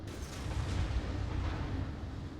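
A naval gun fires from a gunboat in World of Warships, a muffled low boom that swells and rumbles on for a couple of seconds, heard alone.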